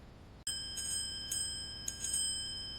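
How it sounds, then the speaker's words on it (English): A bicycle bell rings clearly and close by with bright metallic tones, struck three times in quick succession after a short quiet start, each ring hanging briefly before the next; no one speaks. "I remember a bicycle bell."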